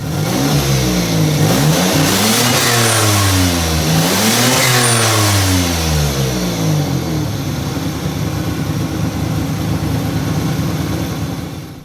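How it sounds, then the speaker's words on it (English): Turbocharged V6 engine of a Mazda MX3 revving hard in sweeping rises and falls over several seconds, loud and close, with the blow-off valve venting between revs before settling to a steady idle. "It now revs up, you can hear the blow-off valve"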